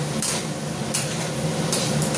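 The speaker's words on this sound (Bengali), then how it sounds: "এবার মশলাটা আমি ভালো করে কষাবো যতক্ষণ না তেল বেরোচ্ছে মশলা থেকে।" Soybean chunks and spice masala stir-fried in a pan over a gas flame, with a steady low sizzle and repeated scraping strokes of a spoon against the pan.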